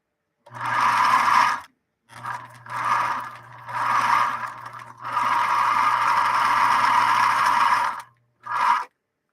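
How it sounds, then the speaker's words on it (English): Bernina Minimatic 707 sewing machine zigzag stitching through about 4 ounces of saddle-grade leather, a loud close motor whir with a steady rhythmic needle clatter in several bursts of stitching separated by short pauses. "here we go with a zigzag through about 4 ounces of saddle grade leather"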